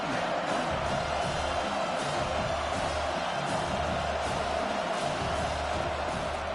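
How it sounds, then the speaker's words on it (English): A simulated stadium crowd in a Michigan Wolverines vs Northwestern Wildcats college football video game gives off a constant, dense roar of cheering that stays even throughout, with no clear talk. "this crowd is turning it up a notch"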